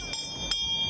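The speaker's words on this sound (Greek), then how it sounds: "αυτός εδώ είναι νερουλάς όπως ήταν εκείνη την περίοδο. Δηλαδή, βαράει το καμπανάκι" A Moroccan water seller's small hand bell rings twice in quick succession, bright and metallic, close by with short decaying rings over faint background noise.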